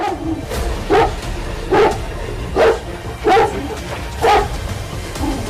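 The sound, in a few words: Caucasian shepherd dogs barking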